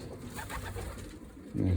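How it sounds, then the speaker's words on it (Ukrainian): Pigeons from a home loft coo softly and steadily at close range, with a louder burst of low cooing near the end and no talk over it. "Так, голуби такі у нас."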